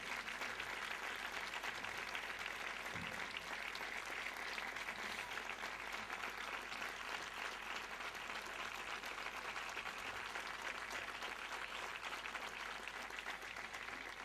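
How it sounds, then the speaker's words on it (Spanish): Faint, distant applause at an honors and distinctions award ceremony after a sports medal presentation, a continuous even patter of many hands heard at low level throughout. "Un fuerte aplauso para ella también."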